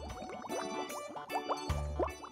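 Liquid bubbles and gurgles in quick, uneven glugs and drips, like water being poured or filling up, fairly close and moderately loud with no voices.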